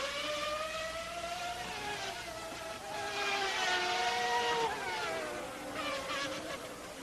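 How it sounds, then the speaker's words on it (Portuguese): Jean Alesi's Ferrari Formula 1 car with a V12 engine races past during second qualifying at the 1995 Pacific Grand Prix, its loud, high-pitched whine rising and sweeping in pitch as it passes close by. "E vem aí rasgando com o motor V12 da Ferrari, que faz as suas últimas provas."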